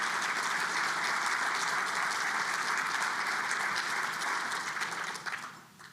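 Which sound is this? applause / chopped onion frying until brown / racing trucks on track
applause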